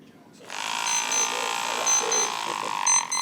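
A small travel-size pillow shaker alarm sounding in alarm mode: a steady, fairly loud electronic buzzing drone starts about half a second in and holds continuously to the end, with brief high beeps riding on top.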